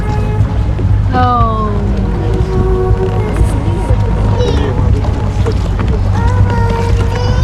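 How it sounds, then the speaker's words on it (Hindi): A boat moves across Lake Pichola in Udaipur, with a steady loud rumble of motor and water under continuous wind buffeting. Someone talks throughout over the constant noise. "बोट पे आ गई हूँ, बोट के अंदर चल रही हूँ।"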